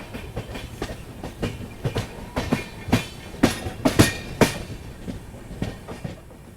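The Indore Amritsar Express rolls into the Agra Cantt station yard with a steady clickety-clack of wheels over rail joints. The thumps build louder toward the middle and then ease, heard close from on board with no talking.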